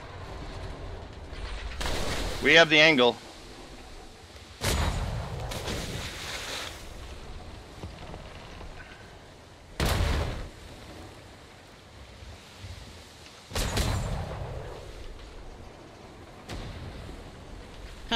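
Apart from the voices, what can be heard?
cannon fire in a video game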